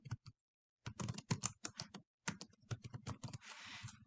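Quick runs of close, crisp clicks from a computer keyboard as a short word is typed, with brief gaps between bursts and a small tail of softer noise near the end.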